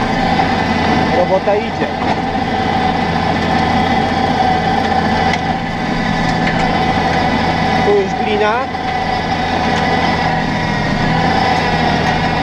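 A Farmtrac 7110 tractor engine runs steadily and loudly while working a dusty field, a constant heavy drone, with someone speaking briefly in Polish over it.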